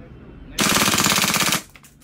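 WE M4 RIS gas blowback airsoft rifle firing a single full-auto burst of about a second, a loud, close, rapid rattle of shots that stops abruptly.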